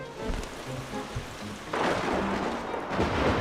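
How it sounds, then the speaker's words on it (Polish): A thunderstorm effect from the video game Wonderbook: Book of Spells, with a low rumble of thunder and a swelling hiss of heavy rain, fairly loud and continuous. "Przywołał olbrzymią chmurę burzową"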